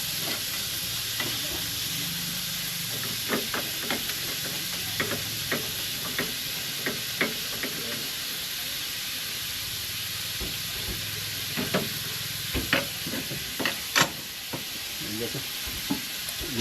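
Meat sautéing for stir-fried Baguio beans sizzles steadily in a pan, with a constant soft hiss and repeated sharp scraping and clinking from a utensil stirring, close and fairly quiet.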